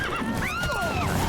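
A horse in the video game Witcher 3: Wild Hunt whinnies, a short, close, wavering neigh that rises and falls over about a second.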